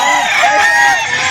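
Roosters at a chicken sale in Calauan, Laguna crow loudly and close, a strained drawn-out call overlapping with other birds and background chatter throughout the brief moment.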